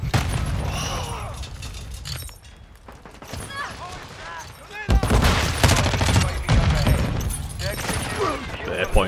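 Chaotic Call of Duty: Modern Warfare gunfire on the Shipment map, with dense rapid bursts and booms crackling almost nonstop under loud, excited talking.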